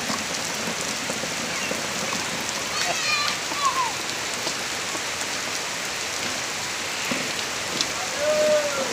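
Steady rain falls on a surface outdoors while a child plays in it, a dense even patter with faint scattered chirps and brief voices in the background.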